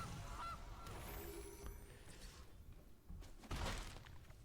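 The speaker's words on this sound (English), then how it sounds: "The goose." Goose honking from the Magic: The Gathering Arena video game, a faint, short honk cry over a quiet, noisy background, with a couple of clatter-like game effects around it and no talking.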